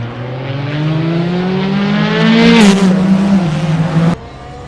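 A Porsche 911 RSR race car at Circuit de Spa-Francorchamps accelerates hard back on power, its loud engine climbing steadily in pitch, then cutting off sharply near the end.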